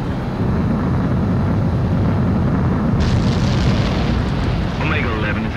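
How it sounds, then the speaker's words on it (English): Fighter jet taking off in the Ace Combat 7 video game, a loud steady engine roar filling the whole stretch, swelling brighter partway through as thrust builds, with faint radio-style voice chatter underneath. "Omega 11, you are cleared for takeoff"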